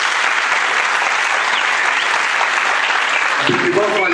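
Dense, continuous audience applause at a school arts evening in Sakhnin honoring a student choir, loud and steady throughout, with a voice starting to speak near the end.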